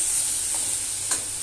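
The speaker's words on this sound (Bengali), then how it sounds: "এই যে শাকটা ভাজবো" Leafy greens sizzling and frying in a home kitchen pan, a steady hiss throughout with a couple of soft stirring scrapes, close and moderately loud, no talking.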